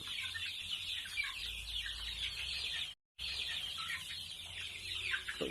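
One-month-old domestic chicks cluck and peep in a steady chorus of soft, overlapping calls at moderate distance, with a brief dropout midway and no voices.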